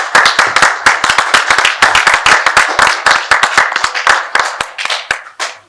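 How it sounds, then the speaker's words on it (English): A live audience at a Nigeria Pitch Awards ceremony claps together in a loud, dense burst of applause. The sharp hand claps run steadily for several seconds, then thin out near the end. "please, let's just applaud ourselves."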